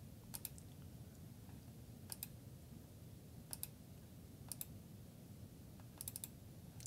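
A computer mouse clicking, faint and close, with several sharp click pairs spaced a second or so apart over a low background hiss and no talking.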